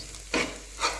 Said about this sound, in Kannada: ಸ್ವಲ್ಪ ಲೈಟಾಗಿ ಕೊತ್ತಂಬರಿ ಸೊಪ್ಪು ಮಿಕ್ಸ್ ಮಾಡೋಕ್ಕೆ ಸ್ಟಾರ್ಟ್ ಮಾಡಿದೆ